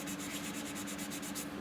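Steady rubbing sanding on a 3D printed kit part being prepped for paint, a continuous close scratchy texture with a soft repeating stroke rhythm, no voices.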